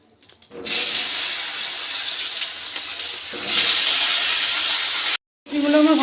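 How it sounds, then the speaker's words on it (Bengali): Cauliflower florets dropped into hot oil left from frying fish, setting off a loud, steady, hissing sizzle that runs for several seconds, then cuts briefly before resuming. "মাছ ভাজা তেলের মধ্যে এবার ফুলকপিগুলো ভেজে নেবো"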